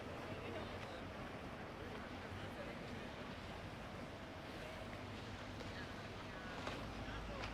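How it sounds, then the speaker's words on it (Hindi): Boats move along the canals in Venice, with a steady, faint wash of water and surf-like noise, gusty wind buffeting the microphone and muffled voices in the background. "अभी तक तो कश्तियाँ वश्तियाँ चल रही हैं।"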